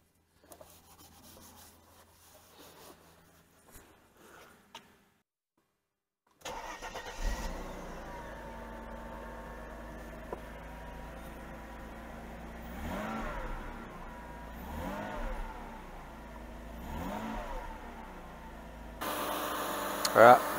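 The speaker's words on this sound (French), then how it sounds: "démarrage à froid nickel, ça tourne au poil, pas de raté." Mercedes-Benz SL280 R129 turning over and catching on a cold start after quiet workshop sounds, then settling into a steady, smooth idle close by, with faint talk underneath.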